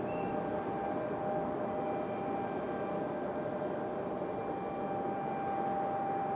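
An American Airlines jet from Chicago approaches Raleigh-Durham airport, a steady, broad engine roar with a faint whine on top, constant and moderately distant throughout with no voices.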